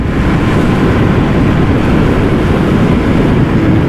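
Loud, steady wind roar buffets a rider on an unfaired Aprilia Tuono 660 motorcycle with no front screen, a dense continuous rush with no talk.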